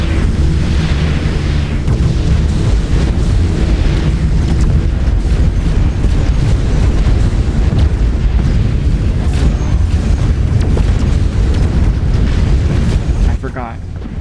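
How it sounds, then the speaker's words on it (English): A missile barrage in a video game sets off a loud, dense wall of rumbling booms and blasts that runs almost without pause, with speech mixed in. "The missile barrage."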